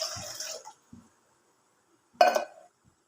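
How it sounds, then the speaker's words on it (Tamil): Water from a small vessel pours into a cooking pot on a stove for murungai keerai soup, in brief splashy bursts with a clear pour near the end, close and fairly quiet. "தண்ணி ஊற்றுறேன்."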